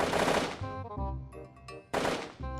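Gunfire in the VR game Hand Simulator: a loud burst of shots at the start and another around two seconds, with lighter pops between, no talk over it.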